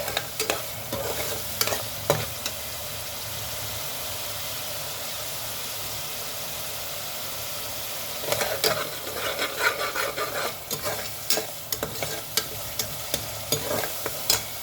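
Curry leaves fry in hot oil alongside ginger garlic paste for a brinjal curry, making a steady, moderate hiss broken by clusters of scraping stirs and utensil knocks against the pan, with no voices.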